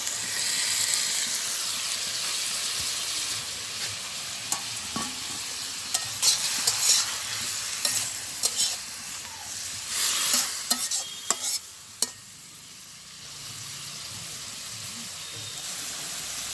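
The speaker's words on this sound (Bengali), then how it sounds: "আর দিয়ে দেবো মাছগুলো।" Fish frying in a pan with green chillies in a village kitchen, a steady loud sizzle with stirring clatters and scrapes, the hiss fading near the end.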